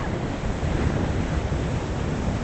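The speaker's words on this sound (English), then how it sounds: "Can you hear the waves?" Continuous surf rumbles and hisses as waves break nearby at the end of a jetty, mixed with gusty wind noise on the microphone; no voices.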